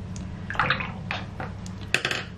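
A paint brush swished and rinsed in a jar of water during a watercolour session, giving a few short splashy clinks and sloshes, close and moderately loud, with no talking.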